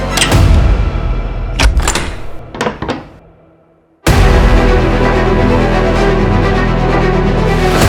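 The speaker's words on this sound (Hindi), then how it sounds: "दरवाजा तोड़वाओ" Several heavy thuds bang against a door in quick succession, followed by a sudden burst of loud, continuous noise.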